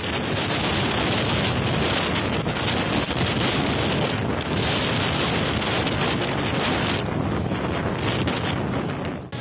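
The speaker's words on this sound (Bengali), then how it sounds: "দমকা আর ঝড়ো হাওয়ার সাথে মেঘের গর্জনে অশনি সংকেত" Strong wind roars and buffets the microphone without pause, loud and rushing, with brief dips as gusts rise and fall.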